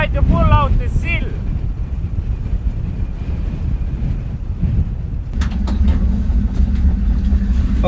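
A 6x6 military truck's engine drones and strains in a snowstorm, a loud continuous low rumble under heavy wind buffeting, with a voice heard briefly near the start.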